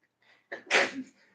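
A single sneeze, preceded by a short intake of breath, ending in a sharp burst, close and fairly loud against near silence.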